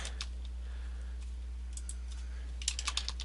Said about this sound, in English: I'm going to type in their names here